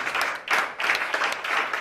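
Church congregation clapping together during a worship service, a brief burst of dense, rhythmic applause rising and falling in waves.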